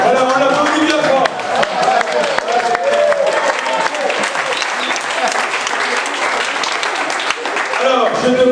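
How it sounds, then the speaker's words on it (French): Loud, continuous applause from an audience at a French-speaking public event, a dense wash of clapping that stays strong throughout, with a voice speaking over it at times. "on l'applaudit bien fort"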